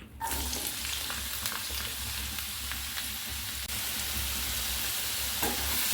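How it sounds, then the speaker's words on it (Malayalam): Chopped onions fry in hot coconut oil for a pepper liver dish, giving a steady close sizzle throughout with a low rumble beneath and no talking. "ഇനി ആ വെളിച്ചെണ്ണ ഒന്ന് ചൂടായ ശേഷം നമുക്കതിലേക്ക് സവാള അരിഞ്ഞത് എടുത്ത് വെച്ചിട്ടുണ്ട്"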